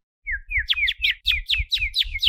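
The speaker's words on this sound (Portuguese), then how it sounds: "mas eu ouço aqueles passarinhos" Small birds sing a short morning phrase of rising whistled chirps, repeated about eight times in a quick even rhythm, clear and close against a quiet background.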